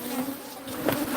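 A huge swarm of more than 100,000 bees buzzes inside a hive, forming a close, steady hum with a brief louder swell near the end.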